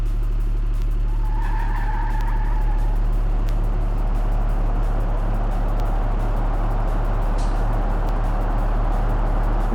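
A truck pulling a train of trailers in the BeamNG driving game, its engine a steady, loud drone that never lets up, with a brief tire squeal rising early on.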